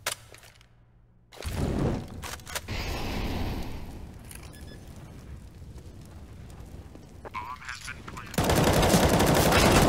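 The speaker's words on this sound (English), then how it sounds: "Oh, nice spray from Pound" Rapid automatic gunfire sprays in Counter-Strike on the Mirage map during a competitive match, loud bursts overlapping with game effects and a caster's commentary running over them.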